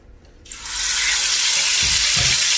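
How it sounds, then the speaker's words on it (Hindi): Chicken pieces drop into hot oil for an Afghani chicken gravy and burst into a loud, steady sizzle that swells within the first half second and holds as a close, broad hiss, with a couple of soft clunks underneath. "ऑयल को गर्म किया है और हम हर पीस को अब हमने फ्राई करना है।"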